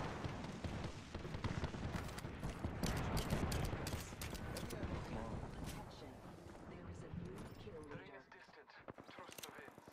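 Gunfire in Apex Legends, dense rapid shots crackling continuously for several seconds, heavy at first and thinning toward the end, under talk.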